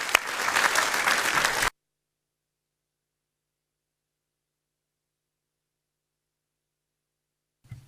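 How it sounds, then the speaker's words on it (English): Council members in a county council meeting clap together in a brief burst of applause that stops abruptly, followed by silence. "everyone join me in giving him a round of applause"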